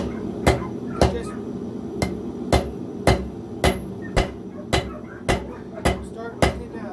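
A hammer strikes metal on the edge of an anvil while a farrier's rasp is forged into a knife, about a dozen loud ringing blows landing at a steady, even pace, close up and with no talking.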